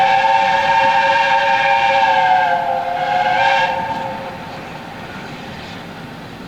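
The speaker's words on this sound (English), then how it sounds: "I got a bit sidetracked by another steam train" Steam train on the passenger line from Paignton to Kingswear sounding a loud sustained multi-tone whistle, which then fades as the train moves away, leaving a low outdoor rumble.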